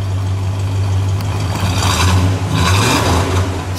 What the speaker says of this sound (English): Go ahead, give it one rev.